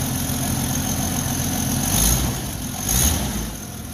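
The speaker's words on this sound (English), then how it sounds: "Oh, she's got exhaust leaks. Manifold's cracked right down there." An idling car engine with exhaust leaks from a cracked manifold holds a steady, rough low rumble, swelling briefly twice as if lightly revved, with no voices.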